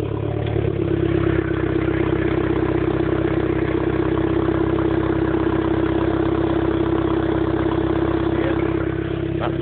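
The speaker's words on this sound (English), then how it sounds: "let's see what it sounds like with the exhaust disconnected" An Audi A4 engine idles with its exhaust disconnected, giving a loud, steady, rough drone with clattery texture throughout and no voices.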